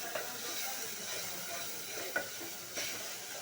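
Ginger paste and onion-chilli paste sizzle in a pan after a splash of water, a steady, close hiss with a few clinks of stirring and no talking.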